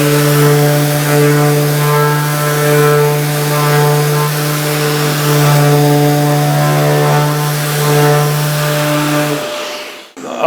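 Festool ETS EC 150 brushless random orbital sander pressed hard, running without a dust hose and holding a loud, steady whine at constant speed for about nine seconds before switching off.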